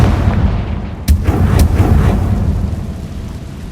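Hogwarts Legacy spell explosions from Confringo boom loudly over a rumbling backdrop, two sharp blasts close together with rolling low echo.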